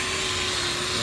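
A buffing machine polishing a motorcycle megaphone exhaust during a restoration, a loud steady motor whine with a constant hum and no break across the short moment.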